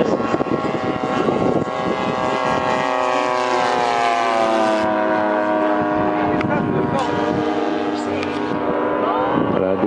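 A propeller plane roars past low and close at an air show in Senlis, its droning engine tone holding loud and steady, shifting slightly in pitch as it passes.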